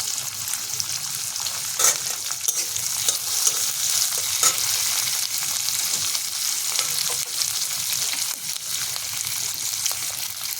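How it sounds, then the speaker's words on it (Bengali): Pieces of pangas fish lightly frying in a pan give a steady, close sizzle with bursts of stirring and scraping, continuous and fairly loud with no talking. "এগুলো একটু আমি হালকা ভেজে নেব। বেশি ভাজবো না, হালকা হালকা ভাবে ভেজে নেব।"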